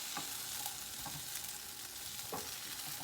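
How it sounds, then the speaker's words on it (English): Peppers frying in a pan give a steady, quiet sizzle with a few soft stirring scrapes. "you can see that the peppers are frying up nicely"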